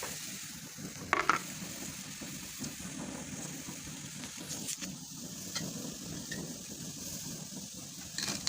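Shrimp drop into a hot pan and sizzle steadily in a home kitchen, a continuous close frying crackle with a brief louder clatter early on and light stirring scrapes, no talk.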